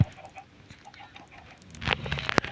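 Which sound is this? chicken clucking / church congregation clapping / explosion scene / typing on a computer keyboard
chicken clucking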